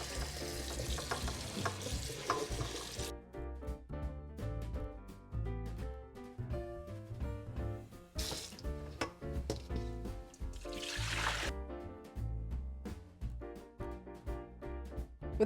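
Oranges are rinsed in water with splashing and sloshing throughout, close and fairly busy, with intermittent knocks and swishes as the fruit moves.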